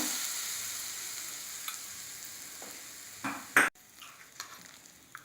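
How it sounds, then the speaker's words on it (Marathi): Hot tempering of oil with red chilli pieces and turmeric poured over a radish salad with dal, giving a short loud sizzle burst that quickly fades back into quiet kitchen stirring. "आता हे आपण या ह्याच्यावर फोडणी घालूया"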